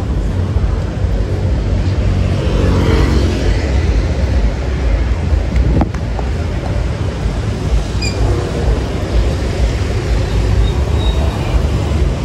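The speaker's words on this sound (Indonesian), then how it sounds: "Untuk lalu lintas di Jalan Legian ramai lancar ya, tidak ada kemacetan." Busy but free-flowing street traffic on Jalan Legian in Kuta, Bali, a continuous loud wash of passing engines and road noise with a brief sharp knock partway through, no one talking.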